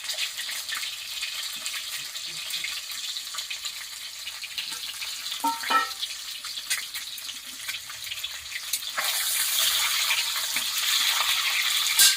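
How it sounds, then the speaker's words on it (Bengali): Eggs dropped into hot oil in a pan, a soft steady crackle that swells into a louder, brighter sizzle after a short splash, close and alone without talk. "তেলটা গরম হয়ে গেল, ডিমগুলো দিয়ে দিলে"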